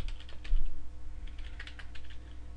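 Keys on a computer keyboard clatter in quick, uneven bursts while a password is typed, a close, moderately quiet run of clicks over a low steady hum.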